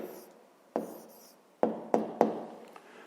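Pen strokes scratch and tap close by as the answer to a fifth-grade math exercise is written out, in a few short bursts with pauses between them, over faint background.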